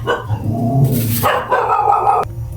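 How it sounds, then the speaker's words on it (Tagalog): A dog barks a few times nearby, short sharp yaps over a steady low background hum. "Ayun yung aso."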